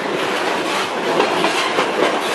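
An empty freight train hauled by an ES43 BBi locomotive rushes past at about 50 km/h in northern Paraná, a loud, steady roar of wagons and rolling wheels with faint clickety-clack and no voices.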